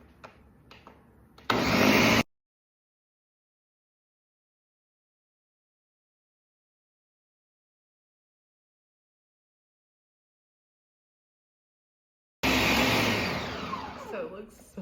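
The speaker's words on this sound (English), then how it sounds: "I'm gonna throw this on my blender. And we're gonna go ahead and just blend." A blender roars loudly for a short burst blending pumpkin seed pesto, then the sound cuts out into silence before the motor whirs again near the end.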